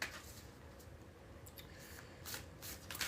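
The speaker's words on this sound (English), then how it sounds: "3 more shuffles." Oracle deck cards shuffled by hand for a reading, soft quiet riffling and sliding bursts close to the microphone, a few short rustles in quick succession.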